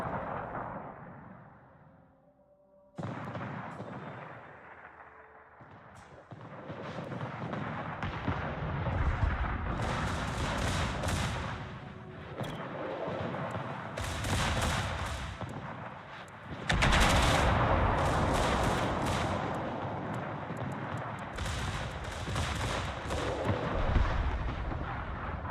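Naval gunfire in World of Warships: repeated heavy cannon blasts and rumbling salvos, some rapid and clattering like machine guns, loud and continuous after a brief quiet start, with swells of explosive roar.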